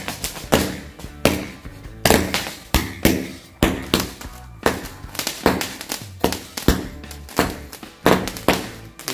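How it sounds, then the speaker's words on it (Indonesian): Rapid bursts of loud firecracker pops from a 50-shot mini cake firework go off in quick succession, sharp cracks repeating over several seconds with brief gaps between clusters. "selanjutnya kita nyalakan mercon Mini Cake 50 kali bunyi ya."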